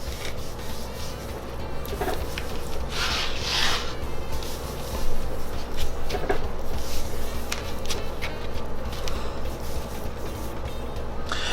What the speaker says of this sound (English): So get in there with your hands and rub it, the whole thing in.